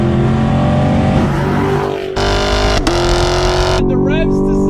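A 6th-generation Chevrolet Camaro SS V8 with a 10-speed automatic revs hard and loud toward 6,000 RPM, holding a steady roar before dropping, with a voice heard under the engine.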